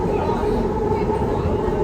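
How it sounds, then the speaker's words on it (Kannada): Inside a moving metro train in Bengaluru, a steady, loud rumble of wheels and carriage hum fills the car, with faint murmuring voices underneath. "ಮೆಟ್ರೋ ಒಳಗೆ ಹತ್ತಿ ಕುಂತೇವೆ ನೋಡ್ರಿ"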